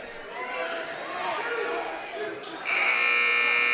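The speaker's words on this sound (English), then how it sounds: "3-pointer by Bryant, no good at the buzzer" A scoreboard buzzer sounds at the end of the third quarter of a girls' high school basketball game in a gym, a loud sustained electronic tone cutting in near the end over crowd noise and commentary.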